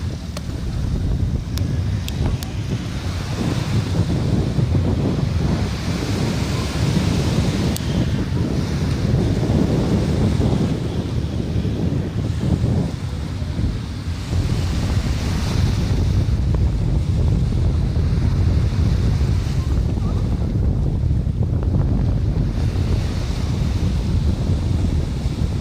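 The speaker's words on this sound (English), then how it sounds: "It is very windy." Strong wind roars steadily in Nassau Harbor, buffeting the microphone, while waves splash and surge against the dock throughout, loud and continuous with no voices.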